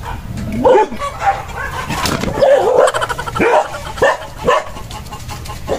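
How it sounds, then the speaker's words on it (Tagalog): Pet dogs bark in short bursts with a few whimpers and yips, fairly close and loud, as a person talks between and over them. "Yung mga alaga kong aso."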